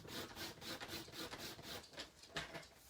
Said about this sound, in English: so I'm gonna snip off 1/8 of an inch here